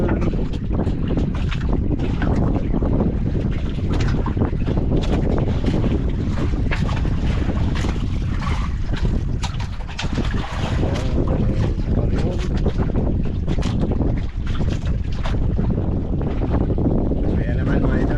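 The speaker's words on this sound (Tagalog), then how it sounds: "Parang unti-unti lumalakas yung mamihan." Strong amihan monsoon wind buffets a boat out at sea, a dense, steady roar of wind noise across the microphone mixed with water and hull sounds, unbroken and loud throughout.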